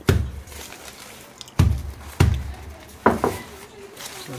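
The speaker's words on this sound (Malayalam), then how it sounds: "ശർക്കര ഇടിച്ച് കൊടുക്കുക." Round balls of jaggery pounded by hand in a home kitchen, a few heavy, dull thuds landing at irregular intervals, each close and loud with a short decay and faint noise between blows.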